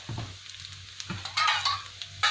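Chicken 65 pieces sizzling and frying in a hot restaurant-style pan, with stirring clatter and crackling bursts of oil rising and falling over a few seconds, fairly close and loud, with no voices.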